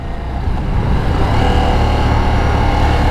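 A Ducati Diavel V4 motorcycle pulls hard under acceleration, its engine roaring loud and close in one continuous rising drone, with no voices.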